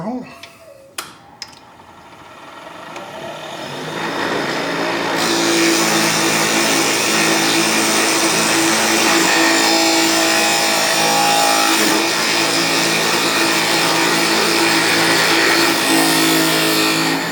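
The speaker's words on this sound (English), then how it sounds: "And drill that center hole." A 1/2-inch Forstner bit bores a center hole through a wood-core sandwich ring blank layered with pink veneer and micarta; a few sharp clicks give way to a steady, loud motor whine that holds to the end.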